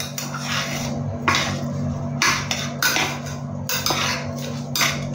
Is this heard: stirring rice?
yes